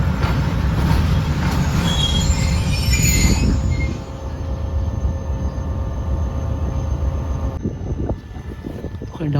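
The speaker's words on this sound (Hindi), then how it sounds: "डाउन में कोई ट्रेन आ रही है" A train passes at Belari railway station, its loud rumble and high wheel squeal close by, then fading to a lower steady roll as cars go past.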